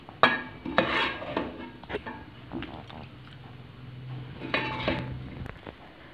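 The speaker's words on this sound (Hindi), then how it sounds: "अब हम इसको किसी बर्तन में निकाल लेते हैं" Chicken curry is ladled from a cooking pot into a serving dish, with a metal spoon clinking and scraping against the vessels in scattered knocks and scrapes at close range.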